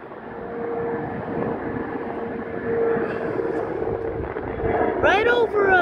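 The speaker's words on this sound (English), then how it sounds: "Airplane taking off." An airliner takes off at DCA airport with a broad, steady engine roar that swells and grows louder near the end. People talk over it, and brief high chirps break in at the close.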